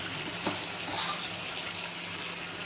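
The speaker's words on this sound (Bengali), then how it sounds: "এবার আলুগুলো দিয়ে দেবো।" Potato pieces go into a pan of yogurt chicken frying with red chilli, bringing a brief thump and stir over a steady close sizzle without talk.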